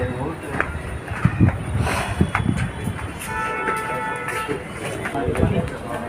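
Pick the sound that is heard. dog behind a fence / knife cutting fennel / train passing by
train passing by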